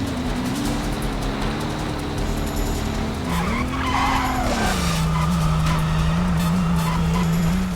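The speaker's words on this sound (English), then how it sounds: "The car engine sounds are okay at best." Car engines from the 2002 Xbox racing game Maximum Chase drone steadily and loudly throughout, with one rev rising and falling midway before settling into a lower continuous hum, plus faint tire squeal; no talk.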